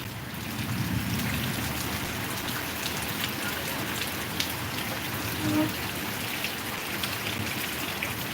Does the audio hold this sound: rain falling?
yes